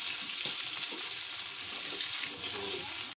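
Chopped onion frying in hot oil with whole spices and bay leaf for a Bengali egg curry, a steady dense sizzle with soft scraping stirs throughout, close and alone before it cuts off abruptly.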